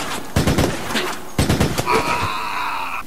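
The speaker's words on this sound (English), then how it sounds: "let's test the burst rifle on a human player" Burst rifle fire in Resident Evil: Operation Raccoon City, two loud close bursts of rapid shots a second apart, followed by a sustained electronic tone.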